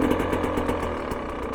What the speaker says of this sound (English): Essentially I'm giving it revs just above idle, so it's not all the way off.